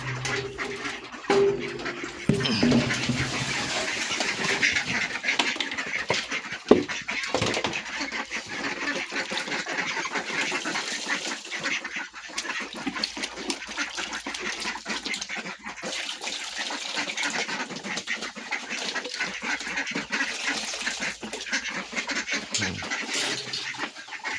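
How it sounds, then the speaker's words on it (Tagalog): Female ducks in a backyard farm pen keep up faint, scattered calls and soft quacks alongside splashing water, which goes on intermittently for the whole stretch. "Ito yung mga itik."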